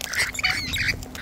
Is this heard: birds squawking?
yes